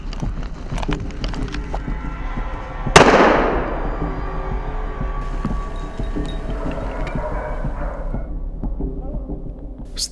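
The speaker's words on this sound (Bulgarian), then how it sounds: "Страни от нас проехтяха няколко изстрела и второ прасе бе повалено от ловеца." A single sharp gunshot fires partway through a wild boar drive hunt, its boom ringing out and decaying over a few seconds against outdoor background noise.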